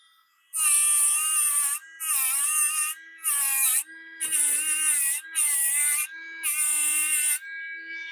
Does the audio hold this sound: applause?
no